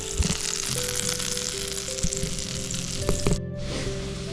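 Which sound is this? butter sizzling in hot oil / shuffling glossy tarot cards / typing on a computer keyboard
butter sizzling in hot oil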